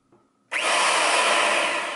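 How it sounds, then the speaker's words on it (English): New electric router, used on firewood for a drum, switched on and running: a sudden loud high whine that holds steady and close for the rest of the moment. "I got the new router on."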